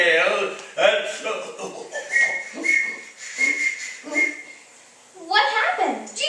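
A whistle blown as a radio drama sound effect in an old-time holiday serial, with bright tonal whistle bursts repeating in a rhythmic pattern among voices, ending in a louder sputtering blast.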